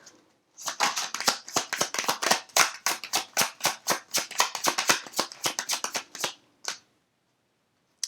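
Crystal oracle cards being shuffled by hand, a fast run of crisp riffling slaps in steady rhythm for several seconds, close and clear, then a lone slap and quiet.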